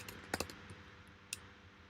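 Someone types a code comment on a computer keyboard, a few quiet, scattered key clicks with two quick taps close together, then a single later tap, close up and otherwise quiet.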